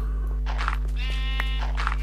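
A couple of Minecraft sheep bleats over a steady electronic hum, close and clear, one drawn-out bleat in the middle.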